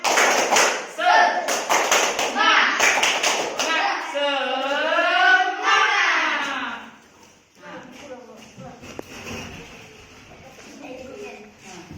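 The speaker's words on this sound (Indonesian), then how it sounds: "Ulang, tepuk semangat." A school class doing a rhythmic spirit clap, with chanted voices and sharp hand claps in patterned bursts, followed by quieter scattered taps and murmuring.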